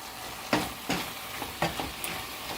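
Green chillies being mixed into keema stuffing as it fries in a pan: a steady sizzle with a series of scraping stirs and light knocks from the spoon.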